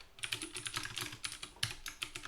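Rapid, close computer keyboard typing sounds as a line of Java code is deleted, a quick burst of sharp clicks in an uneven rhythm, with no talking.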